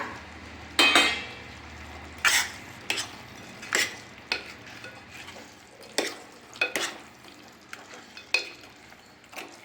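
Pre-fried fish pieces are stirred into a cucumber and tomato curry in a pan. Repeated scraping spoon strokes and clinks come in uneven bursts over a soft background sizzle.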